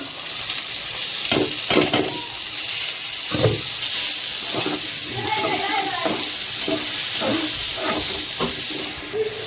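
Lentils go into a hot frying pan for haleem and sizzle steadily, close and loud, with stirring scrapes and clatters breaking through the constant hiss.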